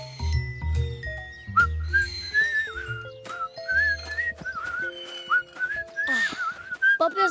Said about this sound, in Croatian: Vas troje izvodite zanimljive zvižduke sa svojim sokićima.